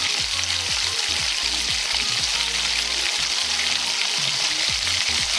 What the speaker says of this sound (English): Fried egg is almost ready, daddy.